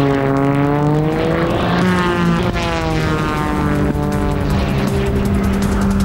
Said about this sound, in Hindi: आबू धाबी में एयर रेस के दौरान पायलट्स ने दिखाया हैरतअंगेज करतब।